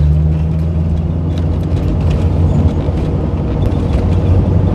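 A Ford Mustang rolls over a rough, bumpy road, with a constant loud low rumble of engine and road noise from inside the cabin and no clear separate jolts.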